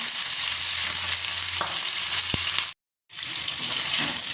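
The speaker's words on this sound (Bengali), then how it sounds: "বাদামি করে ভেজে নেব, লালচে করে চিকেনের পিসগুলোকে ভেজে নেব" Steady, dense sizzling of chicken pieces frying in hot oil until browned, loud and continuous, with a couple of brief clinks and a short cut to silence near the end.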